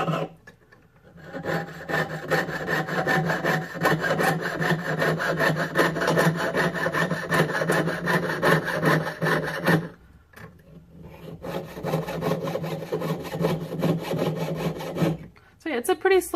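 A jeweler's saw frame cuts through a fine-silver clock stamping in steady, rapid back-and-forth strokes that rasp close and loud. The sawing pauses briefly partway through, then resumes with the same even rhythm.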